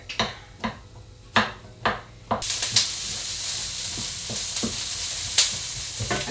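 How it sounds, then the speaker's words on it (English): Onions frying in a pan for a golden vegetable soup: a spoon stirs with several distinct knocks, then a loud, steady close sizzle takes over with occasional clatters of the pan. "we're going to fry off our onions until they're nice and translucent, but not coloured"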